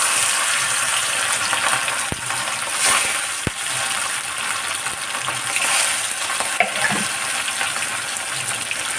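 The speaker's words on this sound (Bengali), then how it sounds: "পার্শে মাছগুলো একটা একটা করে ভাজতে দিয়ে দেবো" Salted, turmeric-rubbed parshe fish frying in hot oil in a kadai make a loud, continuous crackling sizzle, close up, with a few sharp pops and clicks scattered through.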